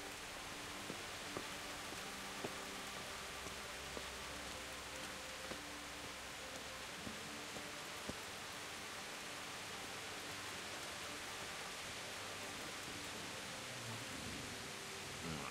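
Steady rain falls in the medieval world of Kingdom Come: Deliverance, a dense even hiss with no talk and no break across the whole stretch.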